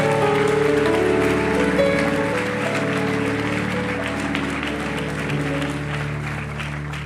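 A church congregation claps loudly at a Portuguese-language service, dense sustained applause over held musical chords, gradually easing in level.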